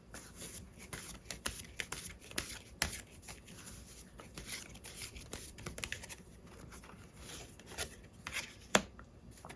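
Tarot cards handled, shuffled and drawn during a reading, with soft, continuous rustling and scattered sharp card snaps and flicks, quiet and close with no speech.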